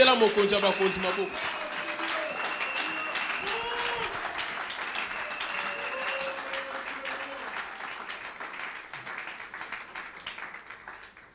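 A church congregation breaks into applause and cheering, a dense wash of clapping with voices calling out over it, loud at first and slowly fading away.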